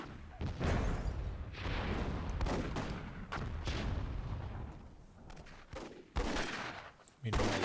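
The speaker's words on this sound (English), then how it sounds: "Getting gunned down by the chopper." Helicopter gunfire in the Myth II video game during a WWII-themed match: repeated bursts of rapid shots and heavy booms that come in uneven waves at moderate loudness.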